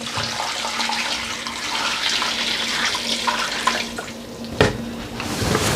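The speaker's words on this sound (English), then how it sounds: "just top that with the whole kettle of boiled water" A full kettle of boiled water poured into a pot of whole spices for mutton pilau, a steady splashing gush lasting several seconds with a brief clunk near the end.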